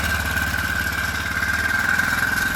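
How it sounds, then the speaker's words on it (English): Cold motorcycle engine running steadily with the choke on in freezing weather, a continuous close idle with an even low pulsing rhythm and slight clatter throughout. "All right, I'm gonna turn that choke off and see if it still runs."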